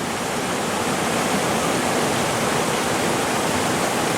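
River rushing in Cachi, Costa Rica, a dense, steady broadband roar of flowing water heard close and continuous with no voices.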